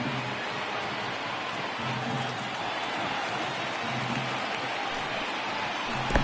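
A dense, steady roar from a baseball stadium crowd of 27,000 rising to its feet in MLB The Show 19, with no individual voices standing out.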